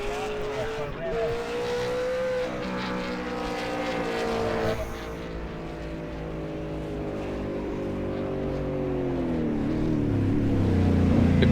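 Race cars roar past Hell Corner at Bathurst in a racing video game, layered engine tones rising and falling in pitch as they sweep by, building louder toward the end under a commentator's voice.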